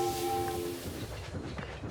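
A train in a train automation video game starts with a steady horn tone and then settles into a continuous rumbling clatter of rolling wagons. No voices are heard.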